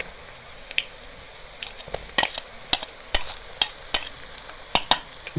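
Garlic ginger paste frying with golden-browning onions in a pan for dhaba-style chana dal, soft steady sizzle with intermittent sharp stirring clicks and scrapes, close and moderately quiet.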